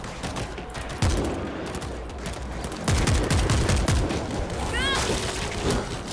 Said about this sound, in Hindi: अब बात है शॉटगन चलाने की।